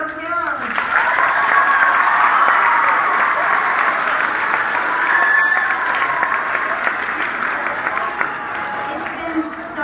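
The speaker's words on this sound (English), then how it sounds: "Let's hear a round of applause for Oak Hills." A crowd at an elementary school's tenth anniversary celebration applauds with loud, sustained clapping for about ten seconds, with voices and a little cheering mixed in.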